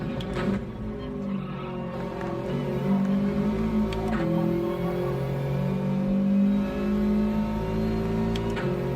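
In a racing video game, a car engine drones and revs with a brief dip as it upshifts into fourth gear, a steady close motor tone with faint tire noise layered over it.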